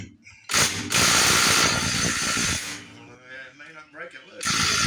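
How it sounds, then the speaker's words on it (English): A socket ratchet clicks rapidly in close, loud bursts as it loosens a nut on a second-generation Chevrolet Camaro during a spring install, with brief pauses and a voice at times. "let's get this nut off of here."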